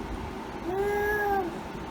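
An 18-month-old toddler imitates a cat with a single drawn-out, rising and falling meow, heard close up against a faint room background.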